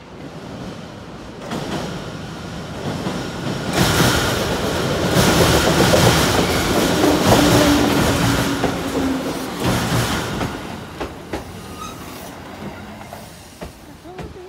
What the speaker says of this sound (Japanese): 電車が来たぞ。